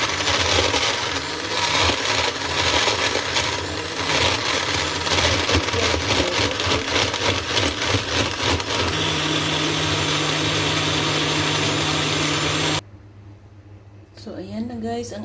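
An electric blender whirs loudly as it blends a coconut (buko) shake, running for several seconds in a steady grinding roar before switching off, followed by a person speaking.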